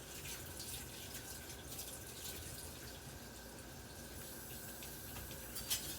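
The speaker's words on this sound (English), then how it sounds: "I happen to have a sink full of hot soapy water" A pan is being washed in a kitchen sink full of hot soapy water, giving a faint, steady watery hiss and slosh with a small splash near the end.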